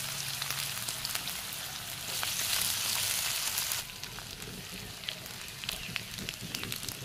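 Cut potatoes sizzle and crackle steadily in hot oil for a fiddlehead fern bhaji, a dense close frying hiss that swells louder for a few seconds and then settles back to a softer, continuous sputter with no talking.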